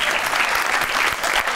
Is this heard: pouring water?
no